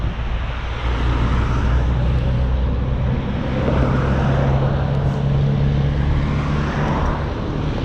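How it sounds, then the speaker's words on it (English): Steady broadband roar of highway traffic streaming on and off the Don Valley Parkway in Toronto, a continuous rushing wash with low engine hum and no break, heard from near the roadside. "So those cars that you can see there, one's getting off the DVP and some are getting onto the DVP."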